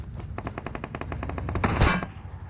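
Rapid bursts of automatic gunfire in a video game, a rhythmic string of shots followed by a louder blast, loud and close, with no talking.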